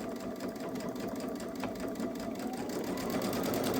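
Babylock Solaris 3 sewing machine darning a seam with the buttonhole foot, a steady close, fast mechanical whir and needle chatter running without a break.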